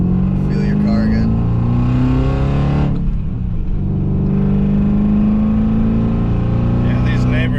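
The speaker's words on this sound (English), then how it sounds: "these neighbors haven't heard this engine in a while" A BMW E34 540i V8 engine revs loudly at close range, a deep sustained roar that rises, dips briefly, then climbs again, with voices talking over it.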